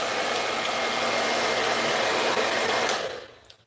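A hair dryer blowing in a steady, loud, broadband rush for about three seconds before it is switched off and winds down.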